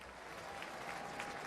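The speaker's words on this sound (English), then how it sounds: "the fans, many of them still remaining, especially the Mountaineer fans, stand and cheer" A college football stadium crowd at a Marshall versus West Virginia game applauds and cheers steadily, a dense, continuous wash of clapping and voices.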